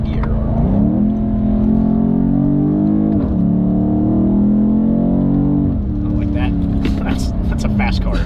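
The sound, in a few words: BMW M850i Gran Coupe exhaust accelerating in manual sport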